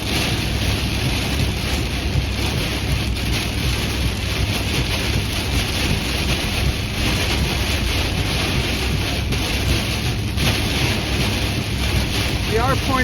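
Steady wind roars around a boat on open water during a storm near Elk Point, a constant broadband rush that stays loud and unbroken throughout with no clear voices.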